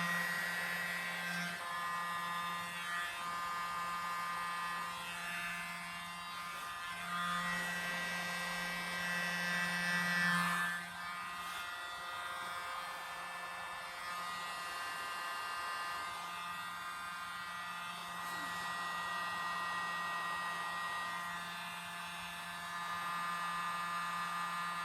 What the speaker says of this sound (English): And now using the mini blow dryer,